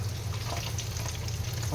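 Steady sizzling and crackling of fish frying in hot oil in a pan, close and continuous, with a low background hum.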